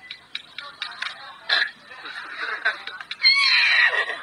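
Horse neighing and whinnying in several short bursts with a longer, louder whinny near the end, close by, with a voice speaking briefly around the calls.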